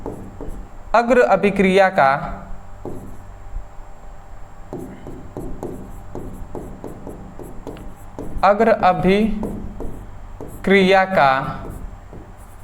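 Chalk or marker scratches and taps on a board in quick rhythmic strokes between bursts of a teacher's speech in a chemistry lesson, close and clear.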